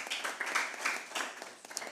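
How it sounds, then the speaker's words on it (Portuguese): A brief burst of audience clapping at a health panel talk, quick irregular claps filling the short stretch without voices. "Salva de palmas."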